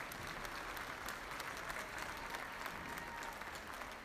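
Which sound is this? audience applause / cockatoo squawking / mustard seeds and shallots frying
audience applause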